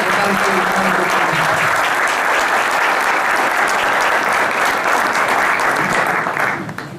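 An audience at a Córdoba university event breaks into loud, sustained applause to welcome a speaker, clapping steadily for several seconds before it fades out at the end, with faint voices underneath early on.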